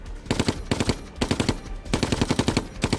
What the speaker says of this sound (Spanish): Una de las ametralladoras alemanas que hay al otro lado de la plaza está retrasando todo el avance.